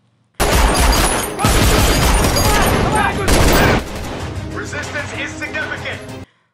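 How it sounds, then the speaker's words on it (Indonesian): A film shootout erupts in loud, dense bursts of rapid gunfire and heavy impacts, then gives way to a quieter, mixed rumble before cutting off abruptly, with voices mixed into the action. "mereka langsung beraksi hingga terjadilah adegan tembak-menembak"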